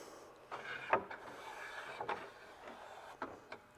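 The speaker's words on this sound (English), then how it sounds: "this slider handle is going to come down" A PVpallet slider handle comes down and slides into place, giving a few soft, quiet scraping and clunking sounds spaced out over a few seconds.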